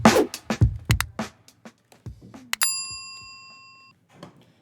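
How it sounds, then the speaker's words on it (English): Several sharp metallic taps and knocks, then a single bright bell ding that rings out and slowly fades to silence, on a live real estate talk show. "So go ahead and hit the bell for us."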